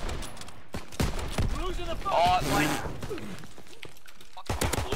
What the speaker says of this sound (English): shots go off absolutely goddamn everywhere